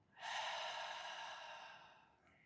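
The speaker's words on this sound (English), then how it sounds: "One more time, big breath in. Big breath out." A single deep exhale out through the mouth during a yoga breathing exercise, a soft, close, airy rush that starts abruptly and fades slowly over about two seconds.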